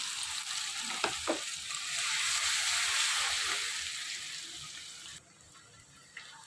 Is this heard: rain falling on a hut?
no